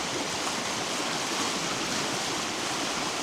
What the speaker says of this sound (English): the forever running water.